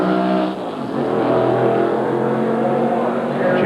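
NASCAR Winston Cup stock car, Harry Gant's, on a fast qualifying lap at Indianapolis, a loud sustained engine roar with steady high-rpm drone that dips briefly then surges back, filling the whole stretch.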